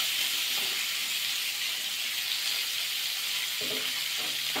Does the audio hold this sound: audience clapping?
no